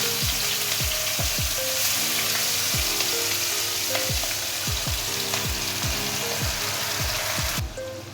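Marinated hilsa fish frying in hot oil with curry leaves, a dense, crackling sizzle close up that carries on steadily, with repeated soft thuds and scrapes before the sizzle eases slightly at the end.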